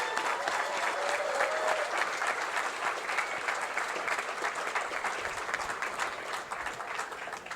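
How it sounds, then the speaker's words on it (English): Graduation ceremony crowd gives sustained, dense applause for the graduates, a steady loud patter of many hands clapping throughout, fading slightly at the close. "big round of applause for our graduates"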